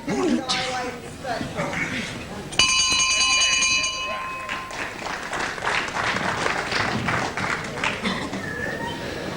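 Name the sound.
wrestling match round bell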